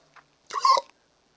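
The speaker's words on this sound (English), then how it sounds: "I just burped" One short, close burp breaks an otherwise quiet moment, lasting under half a second.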